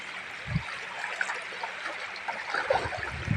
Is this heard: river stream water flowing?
yes